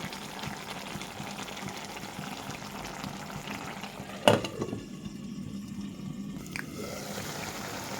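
Kochur loti (taro stolons) with shrimp curry and chopped amra simmering in a pot, giving a soft continuous bubbling hiss with one brief clatter midway.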